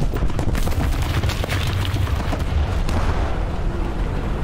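A big bomb goes off in a France-set multiplayer shooter game, a dense, roaring blast with a rumbling low end that fills the whole stretch loudly, with scattered gunfire crackling through it and no talking.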